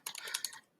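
Fingers tap out a prompt on a computer keyboard, a quick burst of about eight crisp, close clicks in uneven rhythm that trails off into quiet within a second.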